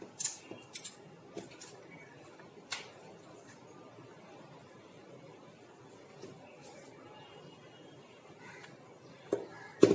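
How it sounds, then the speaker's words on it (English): Scissors snip through chart paper, cutting out circles for a children's colour-coding craft; sparse, quiet snips and faint rustles over a soft background, with a sharper clatter near the end. "Don't do individually while you are cutting the circles."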